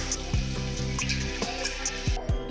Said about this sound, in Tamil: தேங்காய் பால் நல்லா நைஸாக அரைச்சி பால் எடுத்து வச்சு ஊற்றுறேன்